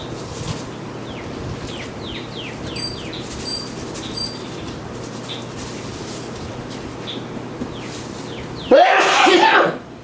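A single loud sneeze bursts out near the end, after a stretch of steady background hum with faint bird chirps.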